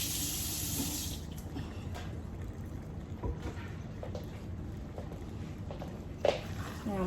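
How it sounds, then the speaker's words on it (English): A kitchen tap runs for several seconds while hands are washed beneath it, a steady moderate splash with occasional knocks and one sharp clack near the end, no talking. "Let me wash my hands."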